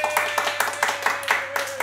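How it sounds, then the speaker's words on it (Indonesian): A few hands clapping in a studio on an Indonesian talk show, sparse and uneven, with a tone running underneath. "Oke, tepuk tangan."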